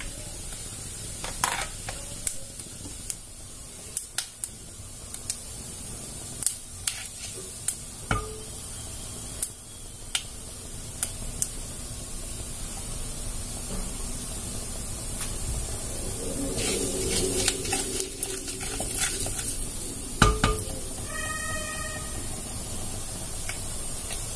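Mustard seeds, fenugreek and fennel sizzle in hot oil as a steady, moderately loud hiss, with scattered small pops and crackles throughout and a brief cluster of sharper crackles near the end.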